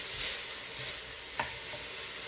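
Onions frying in 2 tablespoons of hot avocado oil over medium-low heat give a steady, fairly faint broadband sizzle, broken once by a short scrape of a stirring utensil.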